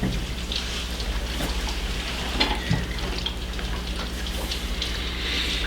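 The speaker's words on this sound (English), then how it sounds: "That rain geeking, man." Rain falling in a steady, dense patter with occasional heavier drops, close and fairly loud, continuing evenly throughout without voices.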